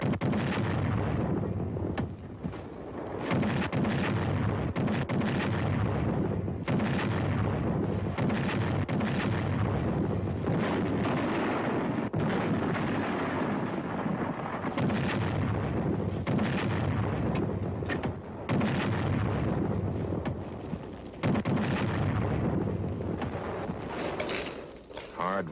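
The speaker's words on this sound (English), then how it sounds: "Number 1 gun, fire!" Korean artillery guns firing in repeated heavy booms amid continuous roaring, wind-buffeted noise, with voices calling out over it.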